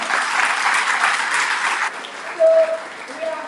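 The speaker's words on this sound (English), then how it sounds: "A big applause for the children." Applause from an audience at a children's Gita study and Srimad Bhagavatam graduation ceremony in Mauritius, a steady wash of clapping that fades slightly partway, with a brief tonal sound near the end.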